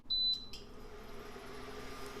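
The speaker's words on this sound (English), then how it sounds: "It's gonna do some beeping." A portable 1800W induction cooktop gives one short, sharp electronic beep as it is switched on, followed by a faint second chirp and then a quiet steady hum.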